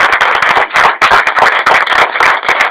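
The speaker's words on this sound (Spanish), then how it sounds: "Un aplauso para el señor." An audience at a mock mass ceremony breaks into applause. Many hands clap close and loud in a dense, uneven burst that never lets up.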